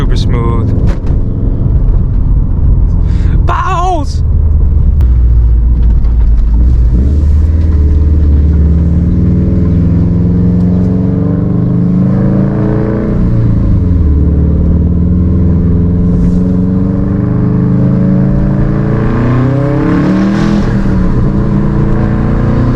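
A 500hp E85-tuned Subaru WRX STI with a stock clutch, heard from inside the cabin as the engine drone climbs and falls through hard acceleration and gear changes, loud and continuous, with someone talking over it.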